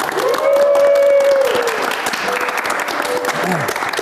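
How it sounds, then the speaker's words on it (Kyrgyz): A studio audience at a television show claps in sustained applause, loud and dense throughout, with a sung or spoken voice carrying over the clapping. "Кол чаап коелу."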